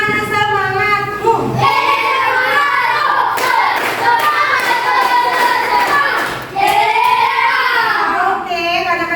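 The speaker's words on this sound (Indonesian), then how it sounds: "Ayo tepuk tangan semangat" A group of children clapping their hands in a loud, fairly continuous patter, mixed with excited chanting and shouting voices up close.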